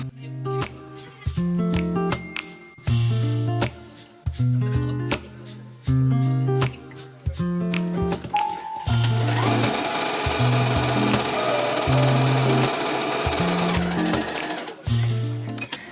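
A sewing machine stitches lining pieces together in short, rapid mechanical bursts, each a quick, chattering run separated by brief pauses. One longer stretch of stitching sits in the middle, close and clear.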